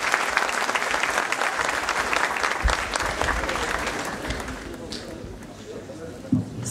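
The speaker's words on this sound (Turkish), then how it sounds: "İzleyen konuklarımız için de ben bir alkış istiyorum" Audience applause at a 2012 Turkish classical music concert by the Van Turkish Music Association, a dense, steady clapping from a full hall that thins slightly toward the end, with a few louder claps and some talk mixed in.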